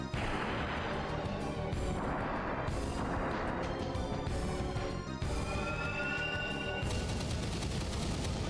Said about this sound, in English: I'm waiting for the cannon. I want to see how much damage that's going to do.